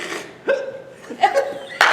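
Several short hiccups from a person, sharp voiced catches spaced irregularly, mixed with breathy laughter and chuckling close to the microphone.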